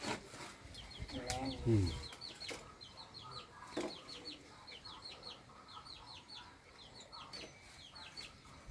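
Chickens cluck and chatter in a rural yard, a steady scatter of short calls running at moderate distance beneath background noise and occasional handling sounds.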